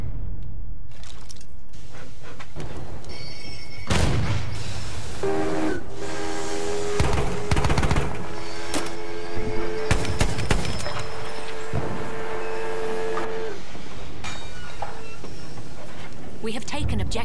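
Armored train from the Battlefield 1 video game in a multiplayer battle, with rumbling rail movement and long sustained whistle or horn blasts amid loud gunfire and explosions, while players talk throughout.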